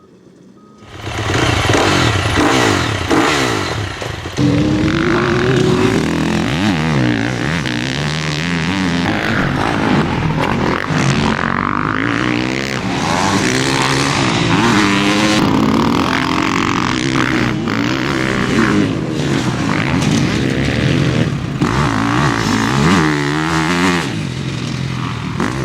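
A 2018 Husqvarna FC 350 dirt bike ridden on laps, its engine loud and near, revving up and down through the gears with rising and falling pitch sweeps for the whole stretch.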